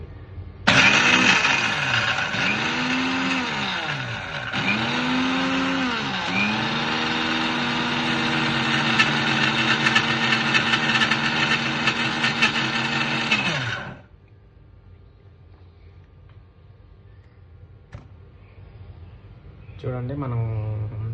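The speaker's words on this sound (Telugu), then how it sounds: "మా దగ్గర బటర్ఫ్లై మిక్సీ ఉంది," A Butterfly brand mixer grinder whirs loudly as it grinds a curry leaf mixture into powder, running steadily in bursts with pitch swoops before cutting off abruptly, followed by quiet room noise.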